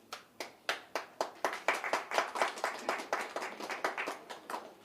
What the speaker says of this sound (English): even at the press conference he claps hands